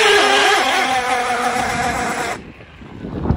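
A high, buzzing electric skateboard motor whine that surges and wavers as the motors slip under acceleration, then cuts off abruptly, leaving faint rumbling noise.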